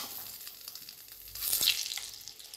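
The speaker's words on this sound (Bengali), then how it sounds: "দিয়ে আমি ডিমটাকে ভেজে তুলে নেব" An egg frying in oil, a soft sputtering crackle that swells into a louder spitting burst midway, then settles back to a gentle sizzle.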